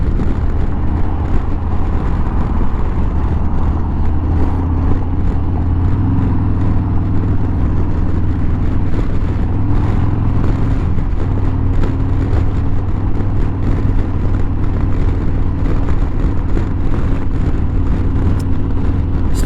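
A motorcycle cruises along a windy highway, its engine droning steadily under constant wind buffeting, loud and close throughout without a break.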